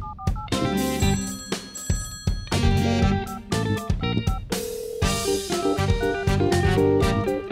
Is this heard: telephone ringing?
yes